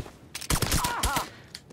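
Short volley of gunfire in the video game Mafia 3 on PS4, a few sharp close shots in quick succession lasting under two seconds.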